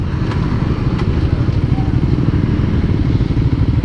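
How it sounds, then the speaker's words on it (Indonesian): A Suzuki GSX-R150 motorcycle engine runs steadily and close by, a continuous low rumble with light mechanical clatter and no talking. "rasain dulu halusnya mesinnya."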